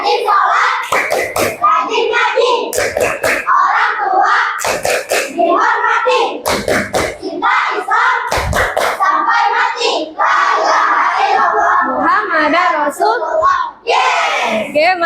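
Children in a classroom chant together and clap their hands in rhythm. Sharp, loud claps punctuate the group chanting at regular intervals from start to finish.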